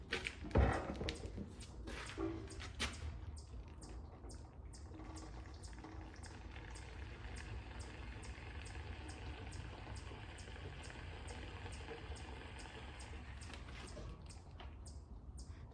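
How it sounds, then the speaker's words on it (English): Fuel splashing and trickling into the tank of a Speedex 1630 garden tractor, a steady close liquid pour running for most of the stretch, with a few small clicks at the start and end. "Put a splash of fuel in this beast."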